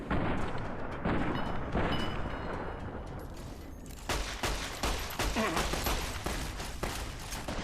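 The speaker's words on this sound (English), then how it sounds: "Just shoot him in the head a few times." Rapid, dense volleys of gunfire in Fallout: New Vegas, loud and close, with sharp repeated shots crowding the second half over steady battle din.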